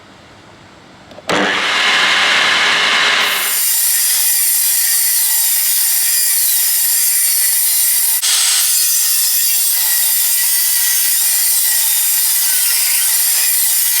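A sheet of wood is cut with a power saw for a truck subwoofer box: after a short rasp the saw spins up into a loud, steady, close whine that runs on unbroken, with a brief bump midway.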